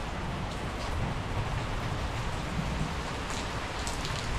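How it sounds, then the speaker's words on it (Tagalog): Heavy rain pouring steadily onto surfaces, a dense, constant hiss with scattered drops close by, faintly touched by wind; no clear thunder stands out. "Ito na rin yung ulan pero may ano pa, kulog-kulog tsaka konting hangin."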